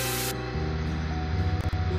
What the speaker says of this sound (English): And give it a nice spray of water.